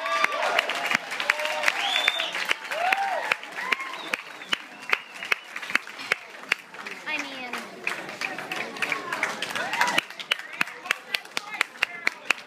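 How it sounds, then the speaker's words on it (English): Wedding guests clap in a sustained round of applause with sharp individual claps standing out, mixed with crowd murmur and voices throughout. "Let's give them a big round of applause, everybody."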